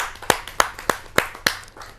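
Audience at a Hindi kavi sammelan poetry gathering breaks into applause: five sharp, evenly spaced bursts of clapping, fairly close and moderately loud, with no talk over them.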